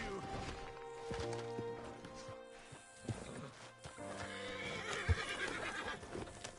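A horse in a PlayStation 4 game whinnies loudly while hooves clip-clop and thud beneath it, with voices talking over the scene and a few sharp knocks along the way.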